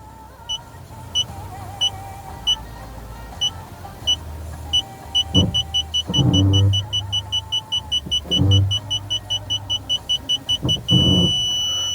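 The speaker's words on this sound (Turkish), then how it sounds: "Ön park sensörümüzde şu an deniyorum" The front parking sensor of a 2025 Toyota C-HR beeps in short tones that speed into a rapid series, with engine and motor noises rising in bursts underneath.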